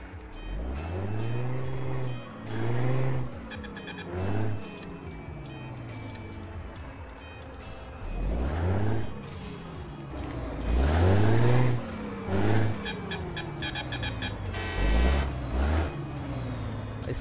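A modded Scania truck engine in Euro Truck Simulator 2 revs up and down in repeated loud surges, deep rumbling pulls that rise in pitch, interrupted by sharp hissing air-brake releases and gear-change pauses, with no one talking.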